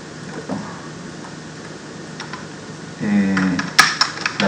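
Keys clatter on a computer keyboard, sparse taps at first, then a quicker burst of close, crisp clicking near the end, with no voices over it.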